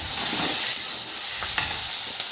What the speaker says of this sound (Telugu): కొద్దిగా పసుపు వేసేసి ఒక్క నిమిషం ఆగి కరివేపాకు వేసేసాను